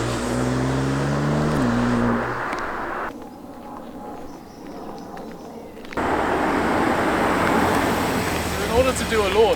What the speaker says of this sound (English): I'll just floor it off here.